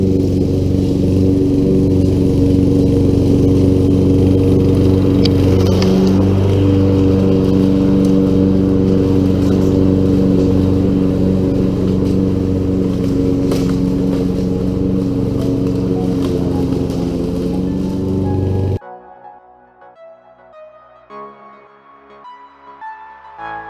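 Lawn mower mulching grass rather than bagging during a fall yard clean-up, a loud, steady engine drone close by that runs continuously before cutting off abruptly near the end, leaving quiet background.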